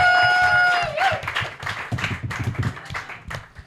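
A comedy roast battle crowd in New York breaks into applause and cheering for a comedian after a short tone. The clapping and crowd noise carry on for a few seconds, moderately loud, with no clear speech.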